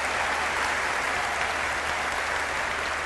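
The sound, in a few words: audience applause for Paraguay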